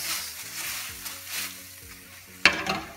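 Sautéed tofu and mushrooms with soy sauce are stirred in a pan, giving a soft sizzle under light background tones, then a sudden sharper burst of frying hiss near the end.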